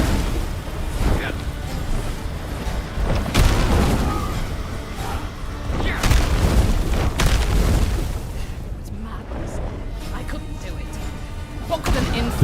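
Lava fissure slam attacks and fire explosions in the Titan Quest 2 action game, a dense stream of booming blasts and crackling bursts over steady rumbling, with game voices talking over the chaos.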